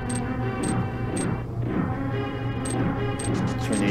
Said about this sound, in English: Those things on the wall shooting cannonballs.